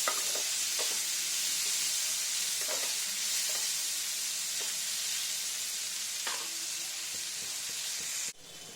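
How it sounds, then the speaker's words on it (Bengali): Onion frying in hilsa fish oil in a home kitchen gives a steady, close sizzle throughout, with occasional light stirring clicks and a brief drop in level near the end. "এই যে পেঁয়াজটা রেখেছিলাম দিয়ে দিলাম ওই ইলিশ মাছের তেলেই এটা ভাজবো"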